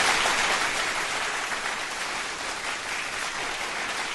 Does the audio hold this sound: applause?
yes